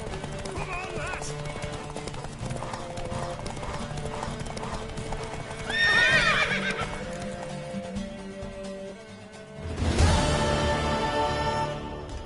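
Horse hooves clip-clop at a gallop in The Witcher 3 game, with loud whinnies breaking through around the middle and again near the end, while voices talk over the riding.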